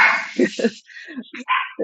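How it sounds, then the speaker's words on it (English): Pet dogs named Samsan and Cooper barking and yipping in a room, a few short sharp barks close by, mixed with talk and some whimpering. "Surrounded by dogs, there are dogs everywhere."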